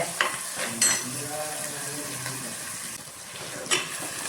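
Tomatoes and green chillies frying in a pan for fish curry, with a soft steady sizzle broken by a few sharp spoon-on-pan scrapes and clinks as they are stirred, no voices.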